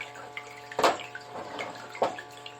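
Water running through a gold sluice box at a stream cleanup, a steady broad wash with two brief louder splashing surges, close by and without talk.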